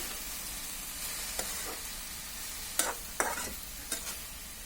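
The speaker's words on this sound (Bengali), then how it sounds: "এখন এটাকে ভালোভাবে একটু নেড়ে চেড়ে দিচ্ছি।" Cabbage and chicken mixture being stirred in a hot frying pan over high heat, a soft continuous sizzle broken by several sharp scraping clicks of the spoon against the pan, close and fairly quiet.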